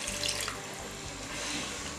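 Water used to rinse tomato residue from a blender runs into a meat sauce in a faint, steady faucet-like stream, with no one speaking.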